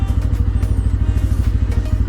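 A motorcycle engine idles close by in Pokhara, Nepal, with a rapid, even low thumping pulse that runs steadily throughout, and nobody speaks.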